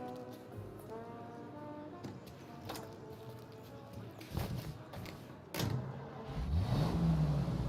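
A car driven in Mafia: Definitive Edition, its engine humming steadily and then revving louder and rising in pitch toward the end, with voices talking over it.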